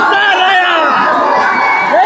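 A festival crowd cheers and whoops loudly and continuously around a palanquin procession where tall ceremonial poles are raised, with shouting voices mixed in throughout.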